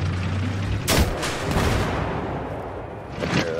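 Tank cannon fire in Battlefield 3 sounds as a loud, sharp blast followed by a rumbling tail, with a second fainter boom near the end amid continuous battlefield noise.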